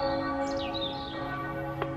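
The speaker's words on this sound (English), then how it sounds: "bell that you would hear at the start of the service" Church bells ringing on a Sunday morning outside a large church as people leave the service, a sustained, fairly distant metallic toll with lingering hum and one sharper strike near the end.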